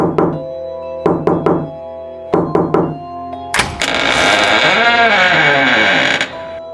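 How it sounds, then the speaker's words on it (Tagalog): Knuckles rap on the door of a house at the edge of a village, striking in quick clusters of two or three firm knocks. A long, loud creaking sweep follows. "Doon siya nagtungo at kumatok siya."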